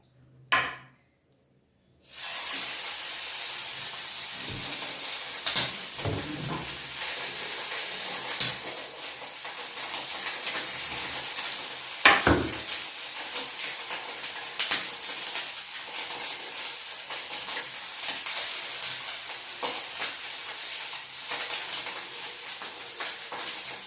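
Mackerel frying in a hot pan sizzles with a steady, crackling hiss, broken by a few sharp clinks and scrapes of a utensil against the pan. A brief sound comes before the sizzle begins.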